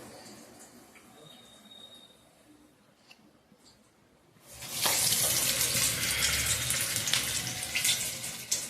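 Black-eyed pea vada batter, Rayalaseema style, drops into hot oil and erupts into a loud, steady sizzle and crackle that fills the second half after a quieter stretch of kitchen background.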